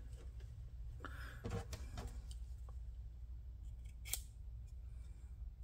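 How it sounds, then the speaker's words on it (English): A Roxon M4 mini EDC multi tool slicing through leather, giving a few short, close scraping cuts over a steady low background hum, with one brighter sharp snip near the end. "It's cutting through leather just fine."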